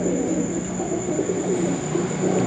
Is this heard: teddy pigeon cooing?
yes